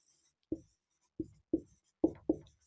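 Five short, separate chalk or marker strokes on a board, sounding as sharp taps followed by brief scratches in an uneven rhythm, close and fairly quiet, with no talking.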